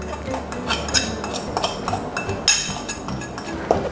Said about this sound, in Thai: จากนั้นก็คนๆนะครับให้น้ำมันเข้าไปในตัวกระเทียมนะครับ